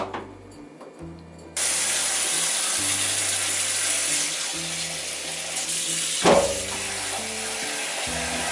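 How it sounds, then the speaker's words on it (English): Hot water from cooked japchae sweet potato noodles pours through a strainer into a kitchen sink, a steady rushing splash that starts abruptly and continues, with a tap running and faint clatter. "now we're going to go ahead and strain the noodles"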